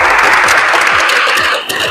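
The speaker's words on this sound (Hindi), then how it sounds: "अपने लिए तालियां तो बजा लो भाई" Audience clapping fills the room at steady volume, a crowd applauding together with no voices over it.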